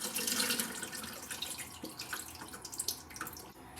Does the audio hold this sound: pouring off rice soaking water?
yes